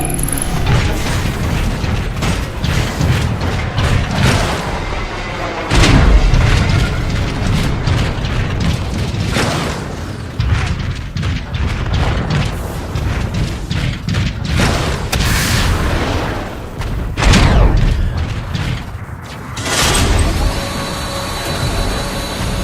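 A Cybertronian artillery cannon being fired manually in a Transformers video game, loud heavy booms and mechanical clanks recurring among a dense, rumbling battle din.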